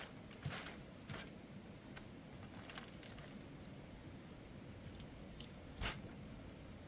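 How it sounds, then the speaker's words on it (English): Ribs are cut during outdoor camp cooking, a few faint, irregular crunchy snips and scrapes against quiet outdoor background, with one sharper crack near the end. "now I'm going to cut some ribs"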